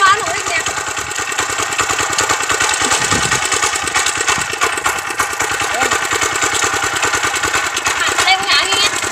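A water pump engine revs hard on a fish-draining outing, a loud, steady, rapid chugging drone running throughout with voices shouting over it.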